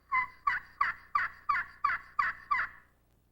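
Turkey friction call played with a magic wand striker, imitating a hen: eight evenly spaced yelps in a steady rhythm, close and clear with no talking.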